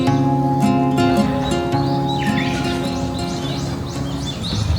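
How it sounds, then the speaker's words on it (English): Bush warblers singing in the quiet early morning at Kiyomizu-dera temple in Kyoto, with scattered chirps and rising whistled calls at moderate distance over a steady hum of ambience. "You can even hear the bush warblers singing."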